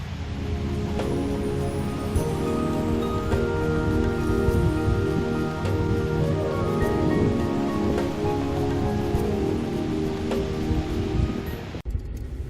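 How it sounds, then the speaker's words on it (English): A waterfall at Glacier National Park pours over rocks and arched walls in a loud, steady, dense rush of falling water that stays constant with no pauses. "Here's a very, very cool waterfall, falling over rocks and arched walls."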